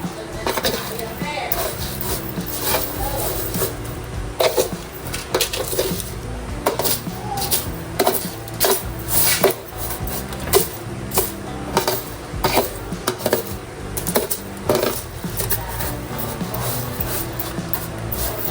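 Hand-mixing of ingredients for homemade tinapang buraw smoked fish, with rice and sugar, gives a steady run of rubbing, scraping and clinking against a bowl or pot, with irregular louder knocks throughout.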